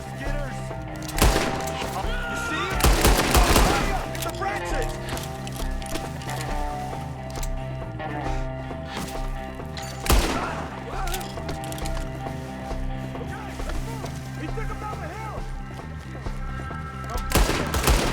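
Gunfire in Red Dead Redemption 2 during a fight against enemies up in trees, sharp shots in bursts around the start and middle over a steady musical score, with horse hooves faintly clopping.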